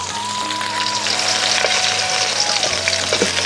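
Potatoes and soybean chunks frying in oil in a pan, a loud, steady close sizzle with occasional stirring scrapes, continuous throughout.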